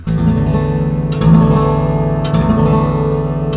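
A low, warm baritone acoustic guitar, miked and amplified through K&K and M1 pickups, rings out with full sustained notes and resonant bass, a couple of fresh strums renewing the sound, loud and close with no talking.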